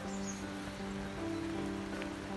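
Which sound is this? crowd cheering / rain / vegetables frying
rain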